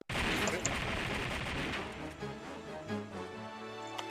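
Gunfire in the Tomb Raider action adventure DVD game, a dense loud burst of rapid shots that tapers off into scattered rumbling and lighter impacts.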